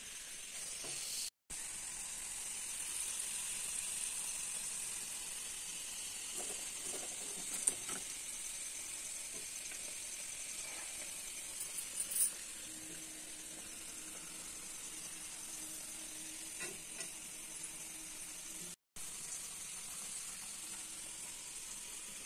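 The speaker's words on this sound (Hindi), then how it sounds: "अभी फ्राई हो रहा है" Prasad frying in a pan at home during Haritalika Teej puja preparations, a steady close sizzle running continuously with occasional soft clinks and stirring sounds.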